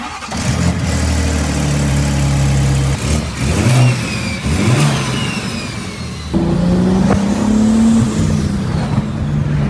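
A 2023 BMW M3 under repair after a wreck starts up and revs out on the road, the engine rising and falling through several loud pulls and gear changes, close and without talk.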